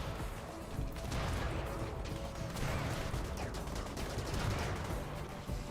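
Mini turrets firing in RimWorld, a fairly faint, continuous rattle of rapid mechanical shots and clanks lasting several seconds with no voices.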